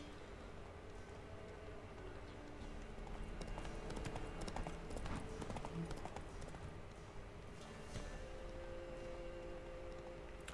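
Hooves of Roach the horse in The Witcher 3 clip-clop quietly in a loose rhythm at moderate distance, mixed with faint ambient game noise and no voices.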